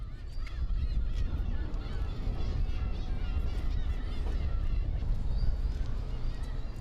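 A flock of black-tailed gulls calling over the sea and rocky islets of Dokdo, steady overlapping cries from many birds over a loud, constant roar of wind and surf.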